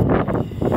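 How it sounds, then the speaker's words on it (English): Strong wind buffets the microphone at an outdoor skatepark bowl in Puerto Rico, a loud, low rumbling roar that surges and dips in gusts throughout with no other clear sounds. "It's super windy here"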